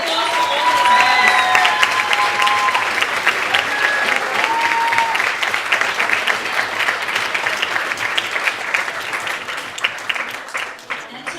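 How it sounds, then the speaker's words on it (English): Applause from a youth forum audience at a winners announcement, sustained dense clapping that swells early and slowly thins toward the end, with some voices and cheering mixed in. "Round of applause for all these guys."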